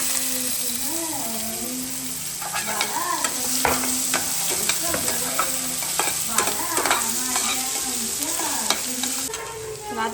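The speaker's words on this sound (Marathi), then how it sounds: "तेजपत्ता, लवंग, मिरे आणि जिरे हे सगळे ना त्यामध्ये टाकून हे पण थोडंसं मिक्स करून घ्यायचं आणि परतून घ्यायचं" Bay leaf, cloves, black pepper and cumin frying in hot oil, a continuous close sizzle broken by repeated scraping stirs of a spoon against the pan, with a voice talking quietly over it.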